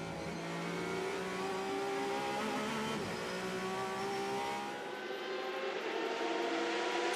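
Toyota prototype race cars at the 2019 24 Hours of Le Mans, near the Indianapolis corner, give a steady, loud engine drone with gliding, shifting pitch that fills the whole stretch, easing slightly near the end, with no voices.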